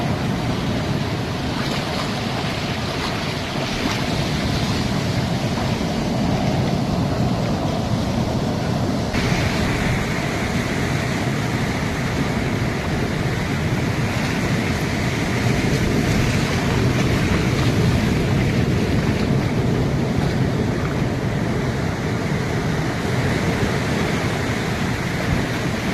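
Rough sea waves roll onto the beach at Kalpakkam, making a loud, continuous roar of surf with wind buffeting the microphone. No voices are heard.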